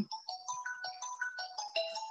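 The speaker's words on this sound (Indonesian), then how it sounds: "Sebentar, ada telepon." A phone ringtone plays alone as a bright, repeating melodic pattern of short tones, moderately quiet, with no talking.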